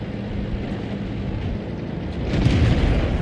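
Rumbling tank cannon blast and explosion in World of Tanks gameplay, a dense low roar that swells toward the end, with no talk over it.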